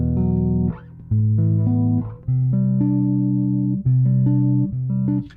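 Fender American Professional Classic Jazz Bass played through its neck pickup, a warm, slightly muddy run of sustained low notes with clear separation, each note ringing steadily before the next, close and loud with no talking.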